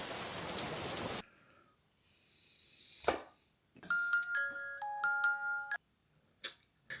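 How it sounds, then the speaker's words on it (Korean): Steady broadband hiss of rain falling outside during a meal on a Daejeon trip. It is loud and close for about a second, then cuts off, followed by a quiet gap and a series of electronic chime tones. "밖에 비 오네"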